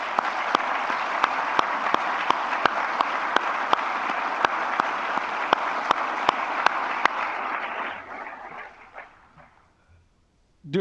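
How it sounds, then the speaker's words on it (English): Graduation ceremony audience applauding the chancellor, dense steady clapping from a large indoor crowd that holds for several seconds and then thins out and fades to silence. "How about a round of applause for him?"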